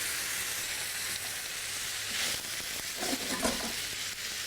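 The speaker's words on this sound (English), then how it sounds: "Add that to the lentils and the spices, little at a time." Vegetable stock poured a little at a time into a pan of lentils and spices for dahl raises a soft, continuous hiss and sizzle, faint and steady with a slight swell midway.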